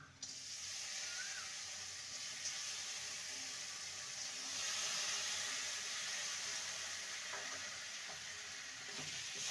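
Washed moong dal tipped into a pan of sizzling spices and chilli powder, a soft steady frying hiss that swells briefly midway, faint and continuous with no talking.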